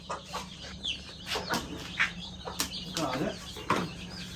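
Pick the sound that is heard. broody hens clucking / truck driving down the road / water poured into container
broody hens clucking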